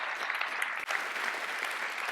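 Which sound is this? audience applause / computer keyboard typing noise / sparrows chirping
audience applause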